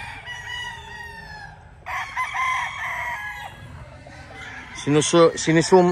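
Close gamecock chickens cluck and crow, with a drawn-out rooster call early on and a burst of loud, rapid clucking near the end.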